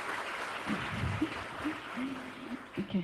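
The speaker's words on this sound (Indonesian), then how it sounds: "Mungkin kita kasih tepuk tangan satu kali lagi buat mereka" Brief applause from an audience at a regional educators' gathering, honoring children who performed, moderate and fading under a short spoken word.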